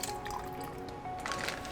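Meal ingredients are poured into a freezer bag, giving a brief, wet, squishy pouring and dripping sound, close and fairly quiet, lasting under two seconds without any talk.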